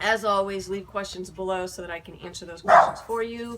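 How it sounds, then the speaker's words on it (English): A dog barks a few times in the background, loudest in one burst near the end, while a person keeps talking over it in the foreground. "Sorry about the dog in the background"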